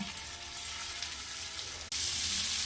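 Crushed crab sizzles in a little oil on a hot dosa griddle. The frying hiss is steady and close, and it jumps abruptly to a louder, brighter crackle near the end.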